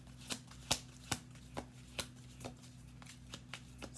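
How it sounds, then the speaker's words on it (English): Playing cards are shuffled in a steady series of crisp riffles and taps, about two per second, close and quiet over a low background hum. "7 minutes in and I'm still shuffling."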